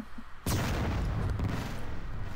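A single heavy blast from the Phoenix cannon in the video game Descent 2 bursts out suddenly and loudly, then rumbles and crackles as it trails off over the next two seconds.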